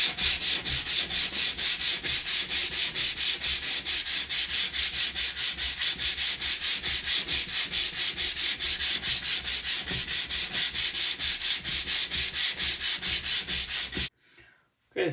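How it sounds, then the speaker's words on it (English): 80 grit sandpaper works over a drywall patch in a continuous, rhythmic back-and-forth scraping that stays loud and close, then stops abruptly near the end. "Now it's sanding time. I'm going to use a 80 grit sandpaper, go over it"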